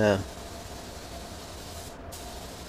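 A spray gun lays epoxy primer onto a 1966 Mustang hood, giving a steady, fairly quiet hiss that runs almost the whole time after a brief louder sound at the start.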